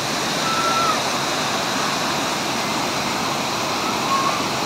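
Tagunon Falls in Agusan del Sur, a waterfall where people swim, gives a steady, loud, full roar of falling water that fills the whole stretch without pause.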